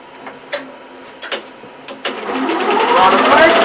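Sewing machine starting its first stitch on fabric for a plush toy, a few short mechanical clicks followed by a steadily building, continuous whirring run, close and fairly loud.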